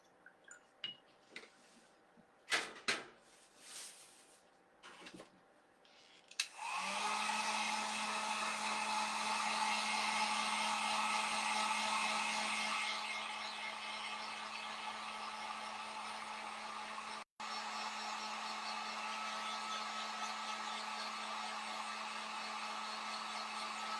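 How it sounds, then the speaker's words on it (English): After a few light clinks and taps, a heat gun switches on and blows a steady loud whooshing hum for over fifteen seconds, drying red paint on a Valentine heart garland, with a brief cutout near the end. "I'm going to use my heat gun, and I'm going to dry that."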